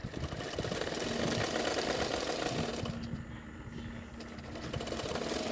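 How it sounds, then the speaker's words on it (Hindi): A sewing machine runs continuously as it stitches along the bottom edge of blouse fabric, with a steady, fast mechanical whir that eases briefly midway and then picks up again. No one speaks. "तो नीचे की साइड में मैं किनारे किनारे पे सिलाई कर रही हूँ।"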